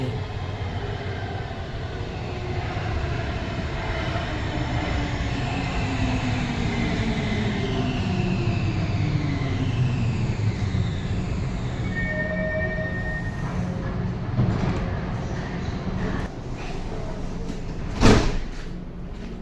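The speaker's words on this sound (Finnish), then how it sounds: "Nyt ollaan sitten M200-metromallin kyydissä, joka on Helsingin metron toiseksi vanhin ja toiseksi uusin metrotyyppi" Riding aboard a Helsinki metro M200 train, a steady rumbling interior drone with rising and falling motor whine, a few squeals, and a sharp clunk near the end.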